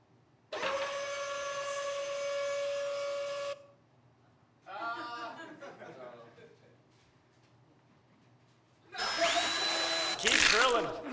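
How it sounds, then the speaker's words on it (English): A drill whines in two steady, loud bursts, with a stretch of talking voices between them. "Keep drilling."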